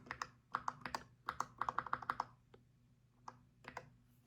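Quick bursts of arrow-key presses on a computer keyboard, clustered clicks followed by a pause and a few scattered taps, close and fairly soft.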